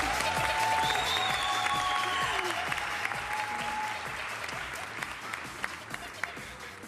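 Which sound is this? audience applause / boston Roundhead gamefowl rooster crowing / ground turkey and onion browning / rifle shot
audience applause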